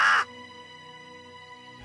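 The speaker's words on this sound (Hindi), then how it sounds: "हाँ, कौवे की आवाज थी।" Crow lets out one short, harsh caw at the very start, loud and close, then it fades into a faint, steady tonal hum for the rest of the clip.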